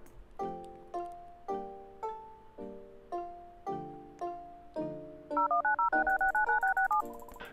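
About nine keypad tones are punched on an emergency phone aboard a plane in a murder-mystery video game, evenly spaced and clear, followed by a rapid warbling ring signal.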